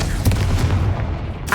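A blasting-spell explosion from the Hogwarts Legacy game, a dense low boom that rolls on for over a second before a brighter burst cuts in at the end, loud and close.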